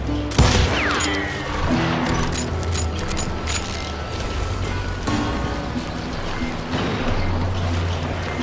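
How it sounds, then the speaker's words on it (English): Gunfire from Pat Garrett's posse of deputies surrounding a homestead in the Western shooter Call of Juarez Gunslinger, a dense, sustained crackle of distant shots with sharp near cracks over a constant noisy bed. "I heard the shots and I knew I had to move fast."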